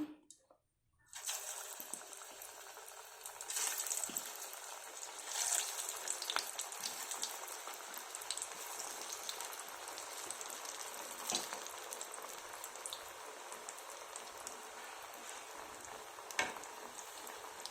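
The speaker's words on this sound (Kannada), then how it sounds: "ಈಗ ಎಣ್ಣೆಗೆ ಹಾಕೋಣ ಎಣ್ಣೆ ಕಾದಿದೆ" Cauliflower vada dropped into hot oil and deep-frying, a loud, dense bubbling sizzle that starts abruptly after a brief quiet moment and carries on steadily throughout.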